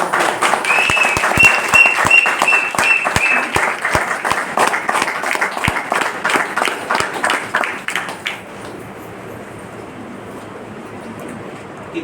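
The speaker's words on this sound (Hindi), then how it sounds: "ऊपर वाले के लिए, कंपनी के लिए और अपने नसीब के लिए एक जोरदार ताली।" A seminar audience breaks into loud, sustained applause, dense rapid clapping from a crowd close by that fades out after about eight seconds, leaving faint room noise.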